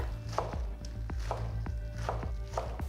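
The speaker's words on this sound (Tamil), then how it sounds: "இலை மட்டும் எடுத்து கழுவி இந்த மாதிரி கட் பண்ணிக்கோங்க" A knife chops washed spinach leaves on a board in a steady series of crisp, close taps, with no voices.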